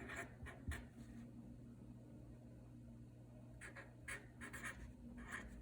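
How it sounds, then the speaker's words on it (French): Pen or marker scratching across a surface while writing the number of protons in a chemistry lesson, short scraping strokes in bursts over a steady low hum, fairly faint and close. "je vais écrire le nombre de protons"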